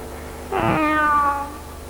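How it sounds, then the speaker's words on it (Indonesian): A single cat meows once, a clear drawn-out harmonic call lasting about a second, close and fairly loud against a quiet background. "Kucing."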